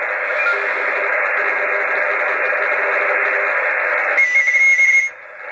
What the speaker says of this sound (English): Loads of data on the band.